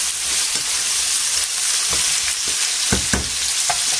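Pork, peppers and whole garlic cloves sizzle steadily in a hot pan for a Spanish stir-fry, a loud continuous hiss with a few scraping stirs and clinks and no talking.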